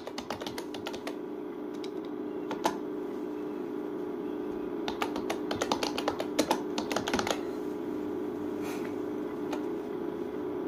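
A student's name is typed in capitals on a computer keyboard: close, clattering keystrokes in quick bursts separated by short pauses, over a low steady hum.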